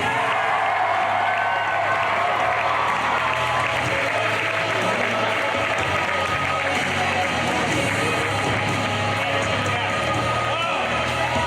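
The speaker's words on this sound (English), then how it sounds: "I want you all to give a big round of applause and a big hi-hi to Hal Rudnick!" A crowd applauds and cheers at the Wizard World 2016 comic convention, a steady roar of clapping and crowd noise throughout, fairly loud, with scattered whoops and voices mixed in.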